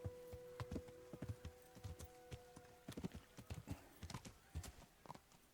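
Rapid rhythmic horse hoofbeats clop along steadily in the video game Kingdom Come, fairly quiet, with a faint tonal hum in the background and no talking.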